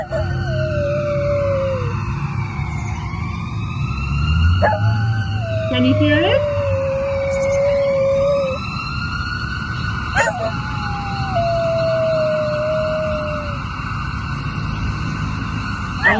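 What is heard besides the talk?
emergency vehicle siren, played as a joke about calling the doctor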